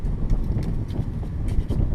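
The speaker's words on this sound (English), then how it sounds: "So, it's pretty windy today." Wind blowing outdoors buffets the microphone, producing low, uneven rumbling gusts and thumps that swell and ease throughout.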